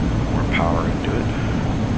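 A steady, loud engine roar inside the cockpit of a Real Air Duke Turbine in the FSX flight simulator as power is added with gear down, a constant drone under a speaking voice.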